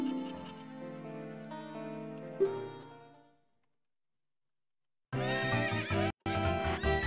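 A horse neighs in the video game Legend of Zelda: Ocarina of Time, a clear whinny lasting a few seconds, then a short silence before game music plays, with no talking.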